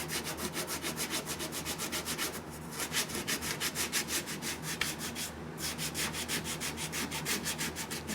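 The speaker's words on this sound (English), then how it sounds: "kind of cross sand like this." Body filler on a car dent being hand sanded in cross strokes, a steady rhythmic rasping of quick back-and-forth passes, close and continuous without speech.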